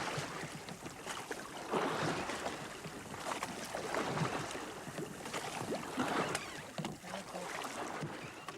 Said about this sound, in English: the oarsmen plough up and down one of the island's main reservoirs